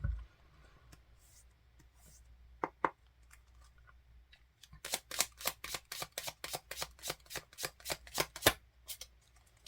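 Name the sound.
shuffling tarot cards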